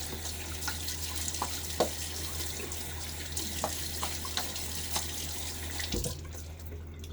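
A bathroom tap runs steadily into a sink while a man wets his face before a shave, a soft continuous water hiss broken by small splashes and drips, quiet and close, with no talking.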